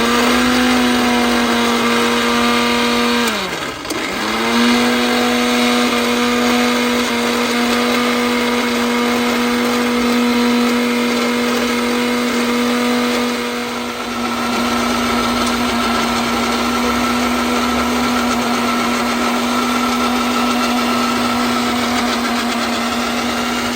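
Electric mixer grinder running steadily while blending ingredients into a paste for a Gujarati winter ubadiyu dish, a loud constant high whine with a brief dip in speed early on, near and uninterrupted.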